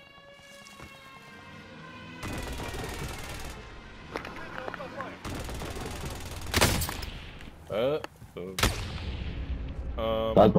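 Sniper rifle gunfire in a multiplayer shooter video game on an island map: several sharp, loud shots and bursts come at irregular intervals over game ambience, with players talking.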